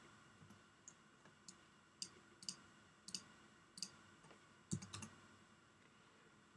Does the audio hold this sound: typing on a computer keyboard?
yes